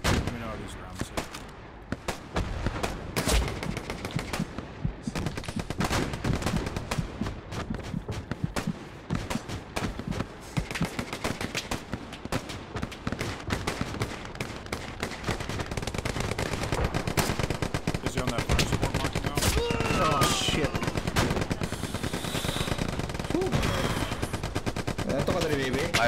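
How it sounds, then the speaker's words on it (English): Artillery fire in the World War II shooter Hell Let Loose, repeated heavy booms and rolling gunfire layered densely over half a minute, with voices talking over the battle. "All right, I'm firing on that mark. Firing on your mark. Let me know how these grounds hit."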